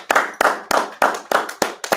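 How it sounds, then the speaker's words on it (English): A group claps in a class gathering with seven sharp, evenly paced claps, loud and close with no talk over them. "let's clap it up."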